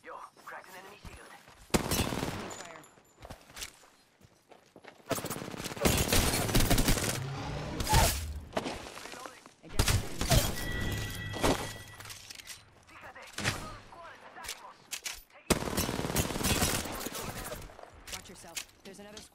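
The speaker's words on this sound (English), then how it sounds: "They're shooting at me." Enemy gunfire in Apex Legends comes in several loud bursts of rapid shots with sharp impacts, separated by quieter gaps, while in-game voice callouts are heard between volleys.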